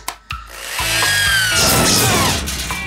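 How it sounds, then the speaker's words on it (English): A power drill in a cartoon, a loud whirring burst that starts after a couple of sharp knocks and spins steadily for about two seconds before winding down. "Drill."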